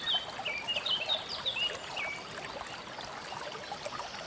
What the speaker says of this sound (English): I'll wash the tomatoes first